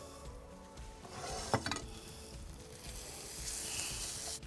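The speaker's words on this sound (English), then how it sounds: "I can hear the garlic and ginger sizzling in the oven." Garlic and ginger sizzle steadily in a pan inside a woodfired oven, a close, continuous hiss and crackle with a brief metallic clink partway through.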